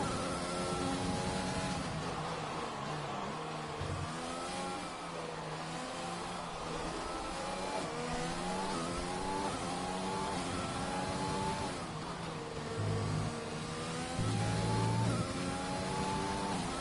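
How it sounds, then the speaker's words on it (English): An F3 race car in a sim racing game at Zandvoort, its engine droning loud and continuous with rising and falling pitch sweeps as it revs through gear changes at speed. "Pink car going quickly."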